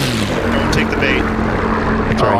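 A fixed-wing aircraft in DCS World aborts its landing from the west, raises its gear and goes around, its engine drone loud and continuous throughout while voices talk over it.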